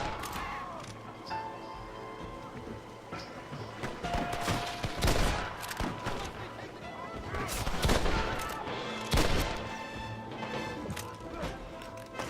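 Gunfire in Red Dead Redemption, scattered shots and rapid bursts echoing in an outdoor western setting, with faint hoofbeats and background game sound, moderately loud.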